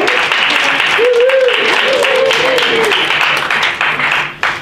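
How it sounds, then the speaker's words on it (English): Steady audience applause fills a senior center reading event, a dense wash of clapping throughout with a tonal voice-like swell in the middle, fading toward the end. "Keep on applauding for Virginia Vales coming up to the micropho"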